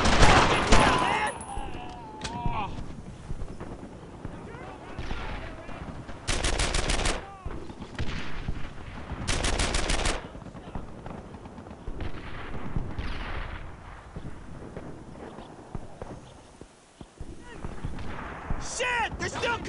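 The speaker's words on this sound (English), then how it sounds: "Firing! Covering fire! Firing! Take those bastards out! Taking fire! Firing!" Heavy World War II gunfire in the shooter game Brothers in Arms: Earned in Blood, with long rattling machine-gun bursts and scattered rifle shots throughout, mixed with shouting soldiers and moments of quieter combat ambience.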